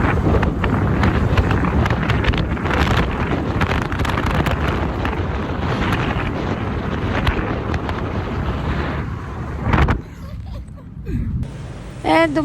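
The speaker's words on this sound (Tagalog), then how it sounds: "Super hangin." Strong coastal wind in Ilocos Norte roars and buffets the microphone in a loud, steady rush that drops away briefly near the end.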